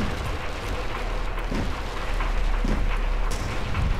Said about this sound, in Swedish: Kolla regnet.